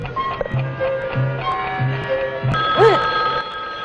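A telephone bell rings in a steady repeating pattern of short bursts, fairly close and clear, with a brief voice-like rising sound near the end.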